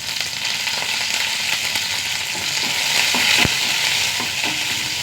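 Mustard seeds, sliced shallots, dried chillies and curry leaves sizzle in hot oil: a loud, dense, continuous hiss dotted with small crackles and pops, close up.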